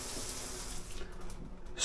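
Hotel shower in a Travelodge bathroom running steadily, a close, continuous broadband hiss of spraying water with no pauses.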